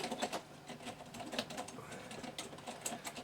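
Fast typing on a European Data Systems LX1 keyboard, a quiet run of irregular clicky keystrokes heard close and alone.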